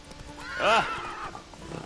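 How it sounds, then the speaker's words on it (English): A horse in the Witcher 3 video game whinnies once, loud and close, a short rising-and-falling neigh in the middle, with soft hoof clops on wooden stair boards around it. "my horse is having a hard time with these wood boards for the stairs"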